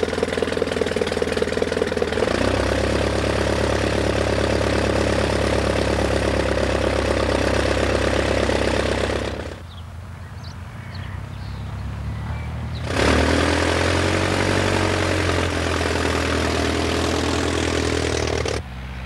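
An early triplane's propeller engine starts and runs, a loud steady droning clatter that cuts out briefly and then resumes at full strength.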